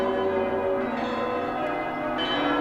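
A giant 9-ton cathedral bell in Kraków rings with a deep sustained toll, rich layered overtones humming continuously and loudly throughout without any voices.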